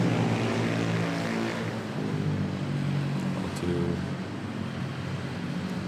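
A jet airliner taxis toward runway 06 at Manila Airport, its engines giving a steady, loud roar with a constant whine that holds throughout, heard from nearby with no talking over it.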